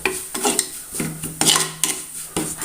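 A metal spoon clinks and scrapes against a pan while spices with coriander powder are stirred and sautéed. Tapping and stirring strikes come in irregular clusters over a faint sizzle, close and clear, with no speech.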